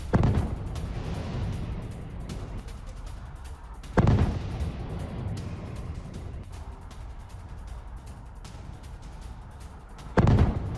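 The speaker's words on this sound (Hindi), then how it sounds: "पेट्रियट PSC-3 इंटरसेप्टर ने तबाह किया क्रूज मिसाइल" Patriot PAC-3 air defense interceptors engaging a cruise missile: three heavy booming blasts spaced several seconds apart, each followed by a rolling rumble that fades into a dull background roar.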